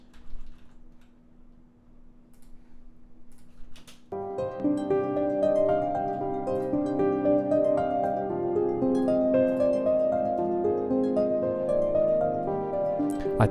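A faint, sparse sample ticks along alone at first, then piano joins it with strings underneath, building into a full, sustained blend of melodic music.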